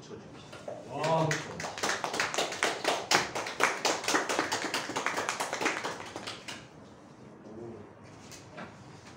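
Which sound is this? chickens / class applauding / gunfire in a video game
class applauding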